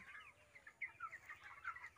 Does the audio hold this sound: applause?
no